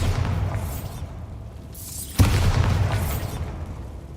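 Bombarda blasting spell in Hogwarts Legacy, a single sudden boom with a sharp crack, followed by a rumbling, debris-filled tail that fades slowly over soft ambient game sound.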